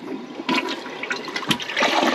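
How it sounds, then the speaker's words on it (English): A toilet flushes for the first time in a small hut, a steady rushing gush of water that swells and keeps running loudly throughout without any talk. "And you'll get to witness my first flush."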